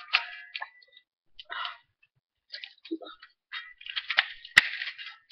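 A toy gun fires in a short run of sharp clicks and pops, with a louder crack near the end, broken by quiet gaps and close to the listener.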